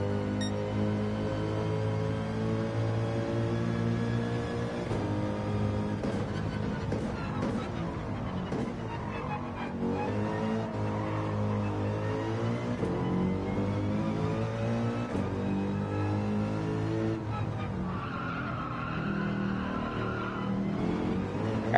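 Deep, steady engine drone of a Gr3 race car in Gran Turismo 7, held continuously for the whole stretch with shifting pitch as the car accelerates and gears change, loud and close without any voices.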